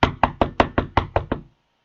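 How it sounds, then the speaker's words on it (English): Seven firm knocks on a wooden door, evenly spaced and close by, then silence, like a night visitor rapping to be let in. "Knock on the door."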